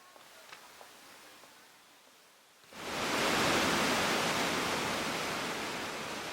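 A tiered mountain waterfall in a valley below a temple, swollen after heavy rain, roars as a loud, dense broadband rush that bursts in abruptly after quiet ambience and then holds steady.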